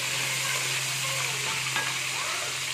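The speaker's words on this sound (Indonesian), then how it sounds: "ikannya kalau digoreng dikasih tepung kanji ya teman-teman" Tapioca-starch-coated fish fries in hot oil, a dense, steady sizzle close up with faint stirring scrapes over it and no voices.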